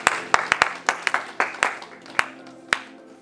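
Scattered claps and applause from a congregation at a Congolese wedding service in Grenoble, sharp irregular hand claps over a low murmur of voices, fairly near and moderately loud.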